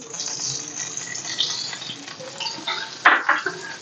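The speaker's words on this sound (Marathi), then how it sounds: "आता मी राहिलेलं हे दीड पळी तेल पण ह्याच्यामध्ये ऍड करते" Oil is added to a kadai for cooking a dry prawns curry, giving soft hissing and light metallic scraping with a sharper clink near the end, close and fairly quiet, with no talking.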